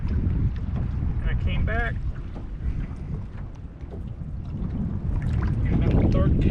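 Strong wind buffeting a small fishing boat on open water, a constant rushing roar over the microphone with someone speaking briefly over it.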